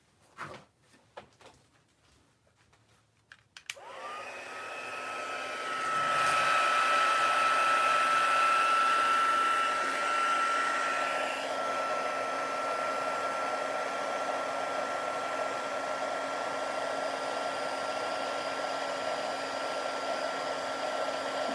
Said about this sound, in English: Okay, let's heat that up. Forgive me for a moment while there's a little bit of noise.